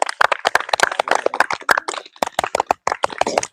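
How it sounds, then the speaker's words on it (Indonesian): Students in a physical education class clap their hands together. The claps are quick, sharp and close, loosely synchronised and uneven in rhythm, running through the whole moment without talk. "Tepuk tangan dulu"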